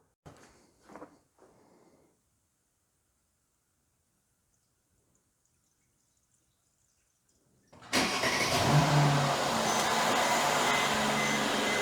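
After a few brief sounds and a long silence, a Mercedes car engine turns over and settles into a steady, fairly loud idle that continues to the end.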